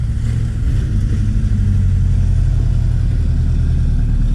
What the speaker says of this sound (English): Excuse this loud truck.